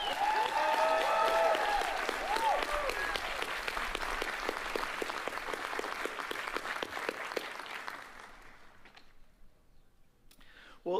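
Sustained audience applause at the Miami University Spring 2024 commencement ceremony, a dense steady clapping crowd that fades toward the end, with a faint murmur of voices beneath.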